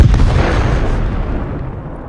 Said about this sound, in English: One of the Bradleys then fires a tow missile.